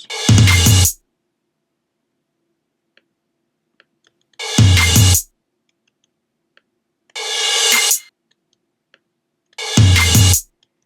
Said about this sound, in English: these last 5 samples are actually just drums from the beginning filler part, and soloed out together they sound like this